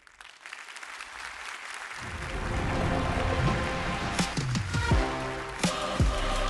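Conference audience applauding entrepreneurs as they come on stage, the clapping swelling from quiet into a sustained, dense applause with a few louder claps and knocks near the end.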